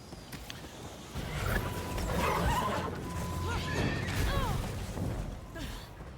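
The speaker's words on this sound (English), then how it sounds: "Even my horse bucked me off." Ghost of Yōtei game audio: a horse whinnies with a descending neigh and a crash or thud as the rider is bucked off, amid clattering effects and mid-level game ambience, with no talk.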